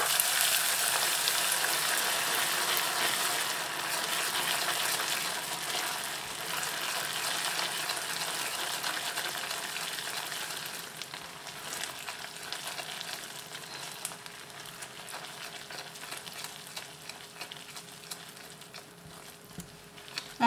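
Pieces of butter dropped into hot caramel just off the heat for a tarte tatin, a loud steady bubbling sizzle that gradually calms and thins out over time, with no talking.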